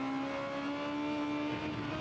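A Honda Civic Type R engine in the racing game Gran Turismo 7 during a Civic Type R Cup race at Lago Maggiore, holding a steady, high-pitched whine at high revs from close by.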